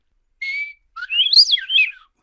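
A man whistles an imitation of a western meadowlark song: a short sustained note, a pause, then a rising and falling warbled phrase, loud and close with no other sounds.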